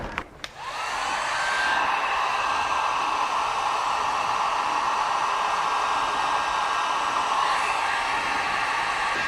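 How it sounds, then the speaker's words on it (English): A heat gun switches on with a click and then blows a steady, even whoosh of air, held close and continuous during work on a supercharged 2001 Pontiac Trans Am. "Get the old trusty super hairdryer out."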